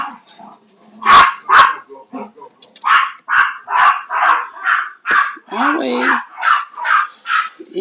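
Two Yorkie dogs barking indoors, a loud run of sharp yappy barks in quick succession with a brief whimpering whine near the end and a short spoken word among them.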